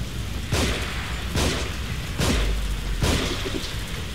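Explosions in the survival-horror game The Evil Within, four dull booming bursts spaced about a second apart over a constant rushing noise bed, fairly faint and without speech.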